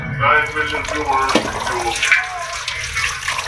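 Water poured into a pan (kawali) holding sugar, a steady splashing, trickling pour close by while a person talks over it.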